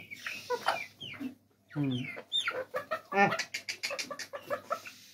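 Chickens on a small poultry farm cluck close by in quick, repeated bursts, several birds overlapping, with a few short squawks in between.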